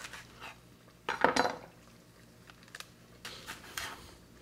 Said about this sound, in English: we're going to put in some green onions. We'll cut off the ends.